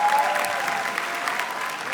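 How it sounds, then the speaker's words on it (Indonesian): Brief burst of audience clapping at a plenary session on climate in Indonesia, moderately loud and steady, with no talk over it. "Nah, boleh kita berikan tepuk tangan?"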